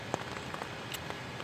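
Rain pattering on a tent tarp, a soft, steady hiss with a few sharper scattered drop taps, faint and close, no voices.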